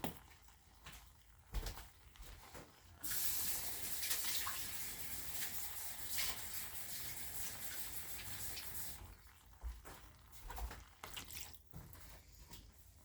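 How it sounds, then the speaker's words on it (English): Water pours from a tap in a continuous hissing stream for several seconds into a cooking pot of spices and chili flakes in a home kitchen, framed by clinks and handling knocks before and after. "And I need just a little bit of water,"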